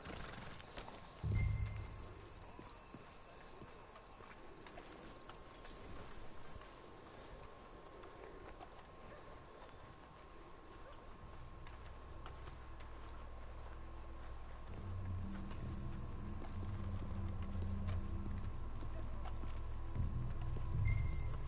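Horses' hooves clip-clop in Red Dead Redemption 2, a soft, steady trotting rhythm with a brief whinny, heard faintly over low ambient background.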